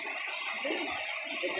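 A waterfall near Haputale in Sri Lanka roars in a steady, dense hiss of rushing, splashing water, close and unbroken throughout, with no voices heard.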